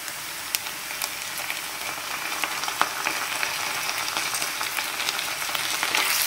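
Onions and ginger garlic paste fry in a pan for a Goan chicken masala curry, a steady close crackling sizzle with scattered sharp pops, growing slightly louder, no speech.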